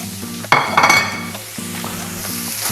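Sweet potato hits a hot pan with a sudden loud sizzle and spatter, then settles into steady frying crackle, with scraping stirs and a low hum underneath, close up and without talk.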